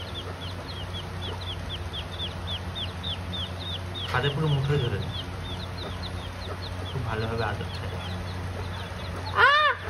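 Rapid high chick peeps chirp almost nonstop over a low hum while a person speaks nearby, ending with a louder squawk.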